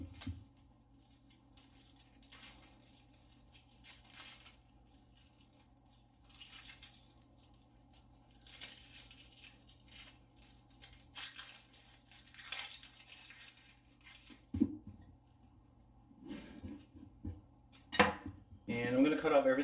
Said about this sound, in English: So I'm just gonna cut this into pieces, into about 4 pieces